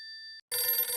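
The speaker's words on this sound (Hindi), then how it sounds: "अरे तेरा फोन बज रहा है, देख।" A telephone bell rings in a home in a Hindi sitcom, a steady electronic trill that breaks off briefly and then resumes louder and denser, close by with no one speaking over it.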